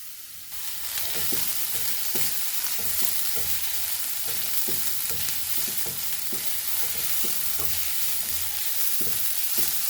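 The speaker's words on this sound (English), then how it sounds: "so I am only roasting this onion along with coconut" Onion and coconut dry-roasting in a pan with no oil for Goan papaya melgor, a steady hiss starting after a brief pause, with repeated rhythmic scraping of a spatula stirring close by, no talk.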